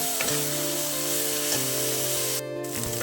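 Grated onion, ginger and garlic fry in a pan with a constant close sizzle and hiss, a steady hum underneath and a few brief stirring scrapes, no talking.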